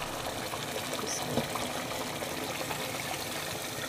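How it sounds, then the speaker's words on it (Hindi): Water is poured steadily into a cooking pot of browned arbi (taro root) curry being cooked at home, giving a soft, continuous splashing trickle at low level for a few seconds. "अब मैं इसमें पानी ऐड कर दूँगी।"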